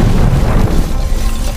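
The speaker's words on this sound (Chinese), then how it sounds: "随着一声巨响，马车瞬间被炸得灰飞烟灭" A nitroglycerin charge on a cart detonates in an outdoor test, giving a loud, dense roaring blast that fills the whole moment close and heavy before cutting off abruptly.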